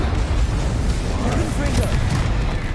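A fire spell cast in Hogwarts Legacy, a dense roaring burst of crackling flame that runs steadily through the whole moment, loud and close, with a voice speaking over it.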